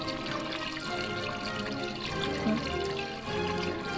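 Kombucha pours out of a jar in a steady liquid stream with bubbly gurgling, close and continuous for about four seconds with no talk over it.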